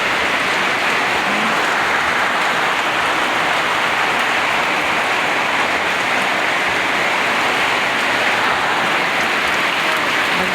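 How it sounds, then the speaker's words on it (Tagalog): Heavy rain pours down in a dense, steady hiss, drumming continuously on surfaces close by without letting up. "Grabe ang ulan."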